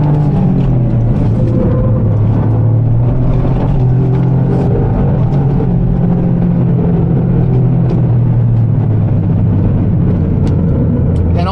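A Toyota GR Yaris Sebastien Ogier Edition is driven flat out on a track, its engine roaring loud and close in a steady, dense drone that shifts pitch slightly, with no talk over it.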